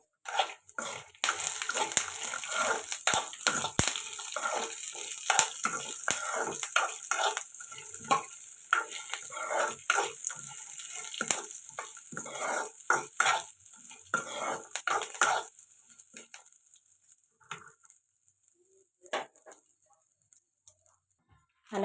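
Chutney ingredients, including curry leaves and roasted gram, fry in a pan with busy, scraping stirs and crackles, then thin out to sparse, quieter clicks toward the end.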